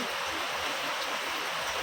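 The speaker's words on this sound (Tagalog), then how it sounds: "Ang lakas ng ulan dito." Heavy morning rain falls as a soft, even hiss throughout, fairly faint and steady, with no voices.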